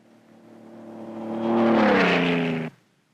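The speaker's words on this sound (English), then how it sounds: "The roar of the engine is the only sound to break the desert silence." A 1930s airliner engine's steady drone builds into a louder roar over the desert, holding strong for a second before cutting off abruptly into silence.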